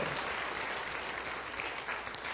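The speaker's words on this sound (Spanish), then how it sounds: "¿Cuántos le dan un aplauso a nuestro Salvador?" A church congregation claps in steady, dense applause for nearly two and a half seconds, moderately quiet and even, with no voices on top.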